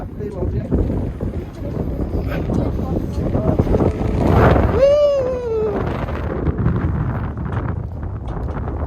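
Wind rumbles and buffets loudly in gusts at Dhumba Lake near Marpha, Nepal, with a voice speaking over it and a brief whistling tone partway through.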